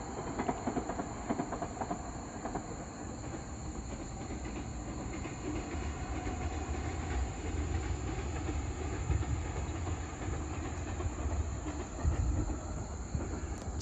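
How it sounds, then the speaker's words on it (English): A train rolls through the countryside of rural Japan at dawn. It is heard at a distance as a steady rumble and rattle, with a constant high insect drone over it throughout. "We have a train coming here off in the background."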